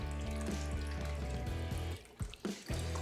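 Chicken broth pours and splashes into a pot holding squirrel pieces, a continuous liquid gush with gurgling and a few uneven splashes near the end.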